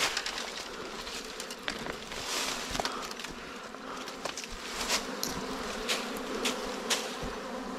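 Wild bees swarming around their nest, a dense steady buzzing that fills the air at close range, with occasional sharper passes as individual insects fly near.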